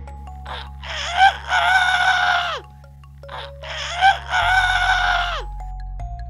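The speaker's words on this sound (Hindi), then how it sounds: "उन्होंने देखा कि एक मुर्गा जोर जोर से चीख रहा था।" A rooster crows loudly twice in long drawn-out calls, each ending in a falling screech, with a short pause between them.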